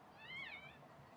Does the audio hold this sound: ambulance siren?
no